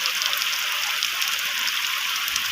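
Heavy rain pours down steadily in a village, a dense, even hiss of drops drumming on surfaces with no let-up and no voices.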